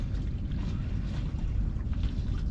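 Sailboat running downwind under spinnaker alone at about 1.9 knots, a constant low rumbling wash of water and wind around the hull, close and steady, no voices.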